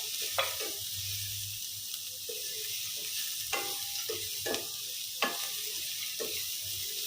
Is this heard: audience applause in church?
no